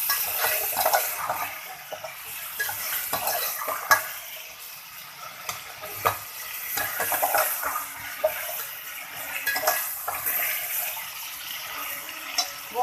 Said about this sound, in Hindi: गोश्त को भूनते हुए 2 मिनट हो गए हैं।